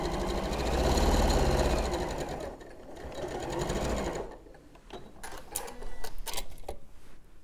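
Domestic sewing machine stitching quilt blocks: a steady fast mechanical whirring run for a few seconds, a brief slower stretch, then stops, followed by irregular clicks and handling taps.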